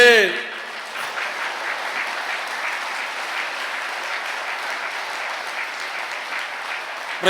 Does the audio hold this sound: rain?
no